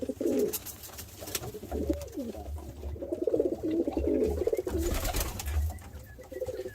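Pigeons in breeding mode coo repeatedly in soft, low, throaty phrases that overlap close by, with a faint background hum.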